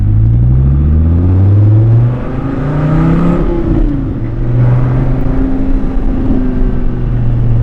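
A Dodge Viper's engine idles loud and close, with a deep burbling exhaust rumble that swells and dips in a couple of gentle throttle surges.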